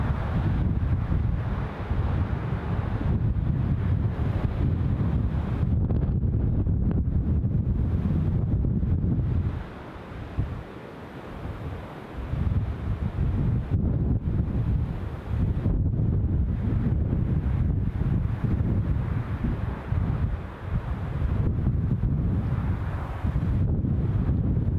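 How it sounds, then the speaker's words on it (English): Strong gusty wind buffets a microphone outdoors at Newcastle International Airport, a loud continuous low rumble that briefly drops around the middle before surging back, with no talking. "Certainly it's plenty blowy at the minute"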